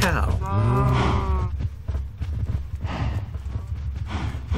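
A Minecraft cow gives one long, loud moo up front, then lower shuffling and thumping game sounds follow.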